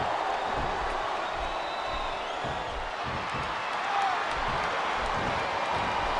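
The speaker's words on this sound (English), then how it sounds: "I love hearing the crowd come alive" Wrestling arena crowd in WWE SmackDown vs. RAW 2007 roars in a steady, dense wash of cheering and noise for a Kurt Angle vs JBL match, constant and moderately loud throughout.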